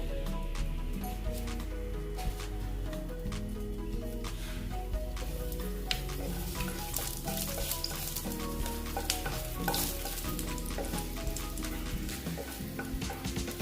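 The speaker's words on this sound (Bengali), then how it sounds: "তেলটা প্রায় গরম হয়ে গেছে এই দেখো এই ফোড়নগুলো দিয়ে দেবো" Whole spices crackling and sizzling as they hit hot oil in a pan for a soybean curry, a dense continuous fry with steady stirring scrapes, close and loud throughout with no talk.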